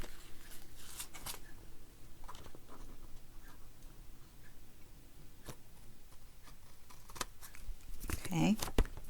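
Scissors trim paper for a photo album: a few faint, scattered snips and paper rustles, some louder crisp cuts near the end, with quiet talk in between.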